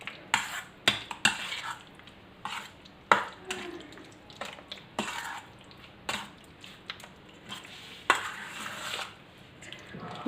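Chicken is mixed by hand with spices and white vinegar for a shish taouk marinade, giving soft squishing, stirring and occasional clinks against a bowl in irregular bursts, fairly close and quiet.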